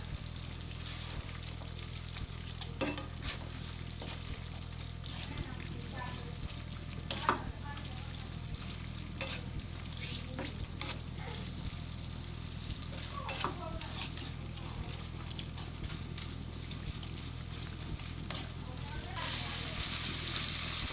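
Pork loin fries in coconut-milk oil for panang curry, a low continuous sizzle with scattered spatula scrapes and taps, a steady hum underneath, and a voice talking over it.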